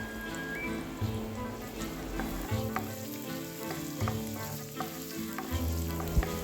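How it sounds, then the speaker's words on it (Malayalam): Ginger and green chillies sizzle steadily while frying in a pan for egg bhurji, with repeated scraping stir strokes and soft clinks running throughout, fairly close and continuous. "ഇഞ്ചി പച്ചമുളകൊക്കെ ചേർത്തതിന് ശേഷം ഒന്ന് ഇളക്കി കൊടുക്കാം"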